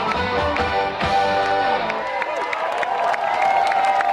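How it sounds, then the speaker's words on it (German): An audience applauds and cheers for the Cologne band De Boore at a long outdoor table event, steady clapping and crowd noise with music and a voice carrying over it. "Der große Applaus für die Buren!"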